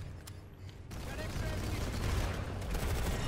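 Dense, rapid gunfire from the video game Planetside 2 rattles continuously in fast overlapping bursts, loud and close.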